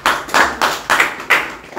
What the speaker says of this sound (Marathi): वा वा, शाबास, टाळ्या वाजवा